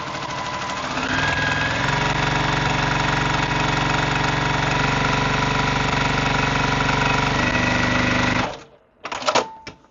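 A quilting sewing machine stitches at about 1,500 stitches per minute, a loud steady mechanical whir with rapid needle clatter running for about eight seconds, then stopping abruptly, followed by a few brief clicks and short bursts.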